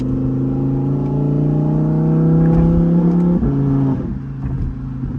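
An Audi R8 convertible accelerates along a road, its engine note rising steadily through a gear, then a shift and a quick lift off the throttle with a few faint pops.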